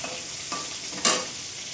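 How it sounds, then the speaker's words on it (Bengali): Food frying in a pan while being stirred: a steady close sizzle with a sharp spatula scrape near the end, and no voices. "এই রান্না করছি।"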